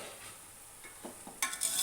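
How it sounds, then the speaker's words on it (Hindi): Rice being stirred into hot sugar syrup in a pot for mutanjan, a sweet rice dish, with quiet scraping and a few soft bursts of sizzle building toward the end, close and fairly faint. "सारे चावलों को आपने अच्छी तरह से चाशनी में मिक्स कर लेना है।"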